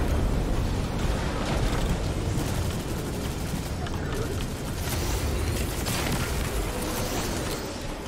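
Continuous loud barrage of rocket explosions and heavy gunfire in Destiny 2, a dense roaring rumble with crackling blasts that barely lets up for the whole stretch.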